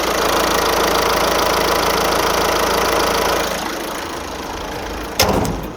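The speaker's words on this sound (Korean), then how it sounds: "자 엔진은 바로 들어보실게요" A 2019 car engine with 30,000 km idles steadily and close by, a continuous low rumble that settles slightly quieter, with a brief knock near the end.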